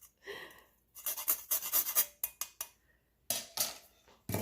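Banana bread batter being mixed in a bowl, with bursts of scraping and clinking of a utensil against the bowl's sides, separated by short pauses.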